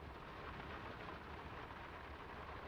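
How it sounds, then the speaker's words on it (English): Steady rain in the game Draugen, set in a quiet village: a soft, continuous broadband wash of falling water, low in level and even throughout, with no voices. "It's getting late, and the rain's not abating."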